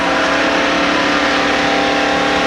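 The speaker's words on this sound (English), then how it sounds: "And you can hear the engine running." A damaged Valvoline Ford race car with a blown engine, running at about 4,000 RPM in fourth gear, gives off a loud, steady, buzzing engine drone held close throughout.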